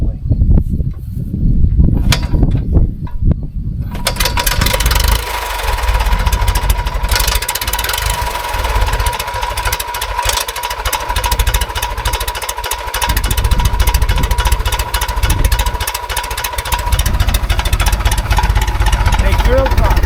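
An engine starts with the mags hot and the throttle cracked, catching after a few seconds and settling into a loud, steady running drone up close, with a voice briefly heard over it.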